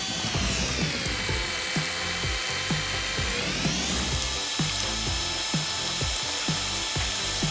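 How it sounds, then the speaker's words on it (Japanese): An electric hand mixer runs while making a rainbow cake, a continuous whirring whine that shifts pitch midway over a fast, regular clicking rattle, close and steady with no talk. "次はハンドミキサーだね。"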